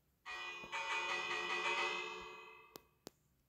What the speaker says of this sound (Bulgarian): Махайте се, бия камбаната.